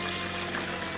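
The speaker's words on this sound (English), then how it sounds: "well, let's just pour it on in." Juice and ginger ale punch, mixed from mango juice, fruit punch and apple juice, is poured into a tub for a Halloween party, giving a steady continuous splashing stream for about a second with no talk.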